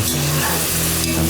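Vegetables are stirred in a pot for Cajun rice and gravy, producing a loud, close, dense hiss of sizzling with a brief scrape of stirring, no voices.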